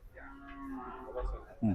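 A single cow lows briefly at a busy cattle market, a short drawn-out moo heard amid crowd murmur and nearby voices.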